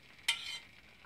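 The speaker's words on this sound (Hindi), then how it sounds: "हम बीच बीच में ग्रेवी को ऑनियन की ग्रेवी को मिक्स करते जा रहे हैं" A single short scrape of a spoon stirring onion gravy in a pan over medium-low heat, one brisk stroke near the start, then a faint continuing sizzle.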